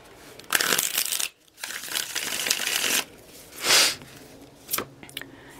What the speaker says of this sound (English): One more shuffle for Pisces and all those who love Pisces.